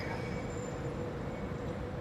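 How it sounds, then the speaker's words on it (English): An LNER Class 801 Azuma train at Stevenage Station in a train simulator game gives off a steady, loud rolling rumble with faint high whine, continuous and with no talk. "We are currently at Stevanage Station with a LNER Class 801 Unit 801215"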